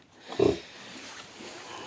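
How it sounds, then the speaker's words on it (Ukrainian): Piglets about 17 days old grunting on a farm, one short loud grunt up close followed by softer low grunts and snuffling in the background. "Такі свиночки."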